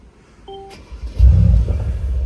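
A car engine fires up after a short chime and a click, swelling into a loud, throaty, low grumble that keeps rumbling close by.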